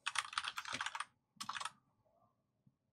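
Computer keyboard typing in two bursts of rapid, crisp key clicks, close and fairly loud, separated by a short pause and ending with a single tap; no speech.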